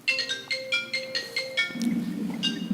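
A mobile phone rings during a board meeting, about eight repeated bright electronic chirps in a steady pattern. The ringing is fairly faint, and a voice briefly speaks near the end.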